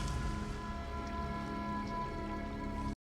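Steady rain pours down in the famous escape scene of The Shawshank Redemption (1994), a continuous close hiss running without a break for about three seconds and then cutting off abruptly, with no voices over it.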